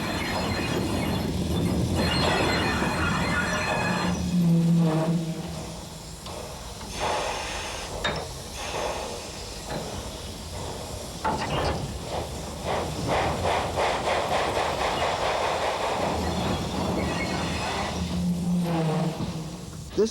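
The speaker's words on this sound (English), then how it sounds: "many of the factories have traditionally used fireless locos." A fireless steam locomotive works at a factory in eastern Germany's brown coal region, giving off loud chuffing and hissing bursts with clanking rail and wagon noise, rising and falling over a long stretch.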